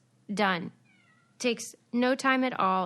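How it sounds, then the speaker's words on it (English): A house cat meows loudly and clearly in a room while someone speaks, its cries falling in the gaps between his phrases. "Pardon my cat, who's meowing."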